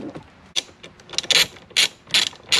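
Small screws are worked loose from a C5 Corvette passenger blend door actuator with a ratcheting tool, giving a series of quick, close clicking bursts with short pauses between them.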